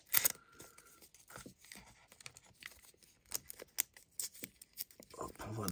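Google Pixel 6A charger packaging being unboxed up close, with soft crinkling, tearing and scraping of paper and cardboard in brief irregular bursts and a louder rustle near the end.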